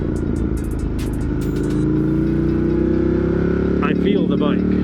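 A Ducati Streetfighter V4S motorcycle engine runs nearby with a loud, throbbing idle that rises slightly in pitch, while a person talks over it.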